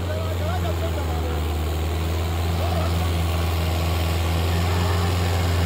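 A 2020 Mahindra 555 tractor engine drones steadily and loudly while ploughing a field, with a constant low hum and a faint rhythmic pulse throughout.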